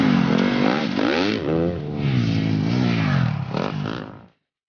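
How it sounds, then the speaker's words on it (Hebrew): A TM MX250Fi motocross motorcycle engine revs hard, its pitch swooping up and down through repeated throttle blips, loud and close, then cutting off abruptly near the end. "מנוע של TM, מנוע מעולה"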